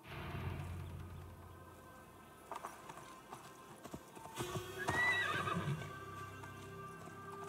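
A horse galloping through a Gloucestershire forest in Assassin's Creed Valhalla, with steady clip-clop hoofbeats close by and a loud neigh and whinny partway through.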